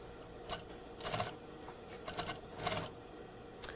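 A sewing machine stitches a sleeve placket with a quarter-inch seam allowance, running in short bursts of rapid mechanical clatter separated by pauses, close and fairly quiet.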